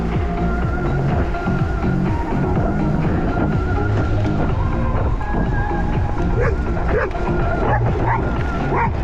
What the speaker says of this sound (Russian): Собака какая-то.